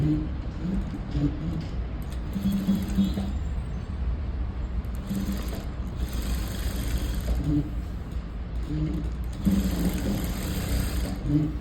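A sewing machine stitches the shoulder seam of a blouse in several bursts of rapid, steady mechanical whirring, with short pauses between runs and a low hum underneath.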